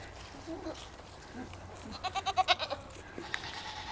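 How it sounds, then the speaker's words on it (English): Young farm goats bleat in a quick run of short, wavering calls close by, set against a quiet outdoor background. "speaking of our younger goats."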